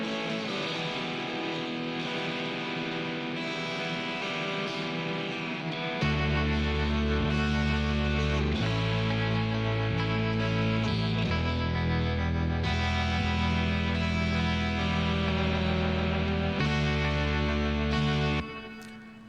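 An instrumental cover plays with tremolo-laden chords and a centered bass and no lead line, steady and full, with a deep bass entering partway through.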